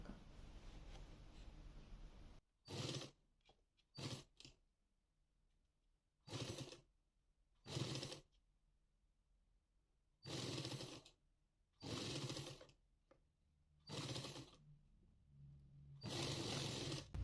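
A sewing machine stitching a saree blouse runs in repeated short bursts of whirring, about eight runs separated by quiet pauses, close and clear.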